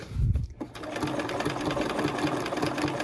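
A sewing machine stitches a fabric leaf for a Christmas garland, a steady, close, rapid mechanical whir that starts after a brief pause and runs on continuously with no talk over it.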